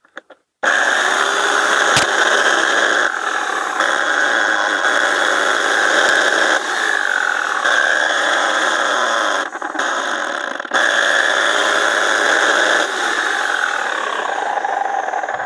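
Top Craft electric chainsaw with a slipping chain, a loud steady motor whine that starts abruptly and runs continuously with brief dips, close up and without talk.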